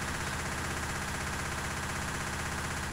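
Rapid, continuous automatic fire from an Uzi submachine gun in Left 4 Dead 2, a dense, loud burst of shots running unbroken for a few seconds.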